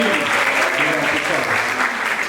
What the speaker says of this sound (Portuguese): Salve de palmas pro Will, gente!